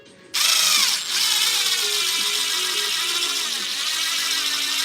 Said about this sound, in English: Got to drill it.